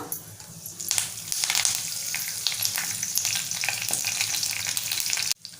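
Cumin, mustard seeds and curry leaves crackle and sizzle in a spoonful of hot oil, a dense steady frying hiss with sharp pops, close and loud, ending abruptly.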